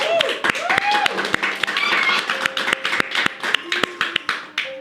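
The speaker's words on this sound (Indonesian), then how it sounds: "Tepuk tangan." Scattered hand clapping at a Jember reptile community gathering, sharp individual claps with talking and tonal voices mixed in, irregular and close.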